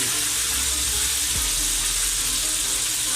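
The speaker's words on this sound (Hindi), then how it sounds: "इनको सबको फ्राई करना है" Stuffed bitter gourds (karela filled with keema) frying in a pan give a dense, continuous loud sizzle, close and unbroken, with no one talking.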